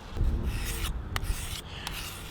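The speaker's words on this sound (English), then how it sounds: "Now all we have to do is just sharpen the blade" A blade from a restored hand tool is sharpened with a few short rasping, rubbing strokes, heard close up and with no talk.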